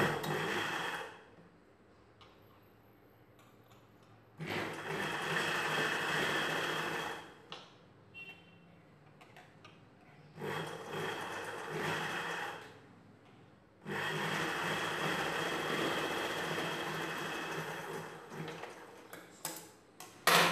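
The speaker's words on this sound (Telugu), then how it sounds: "దీనికి పై వైపున ఇంకొక స్టిచ్ చేసుకోవాలి." A sewing machine stitching a princess-cut blouse runs in two long bursts with short pauses between, a steady mechanical whir near and clear, with quieter handling in the gaps.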